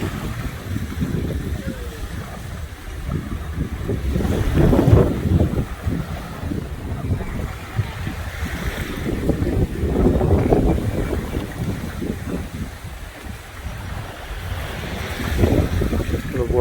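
A breeze buffets the microphone on a Cancun beach, low rumbling gusts that swell and fade over the sea, continuous and fairly loud throughout.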